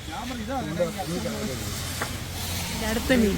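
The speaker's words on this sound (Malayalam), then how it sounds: "മഴയാണ് ഗൈസ്" Rain falls during a fishing trip, a steady broadband hiss running under someone speaking Malayalam close by.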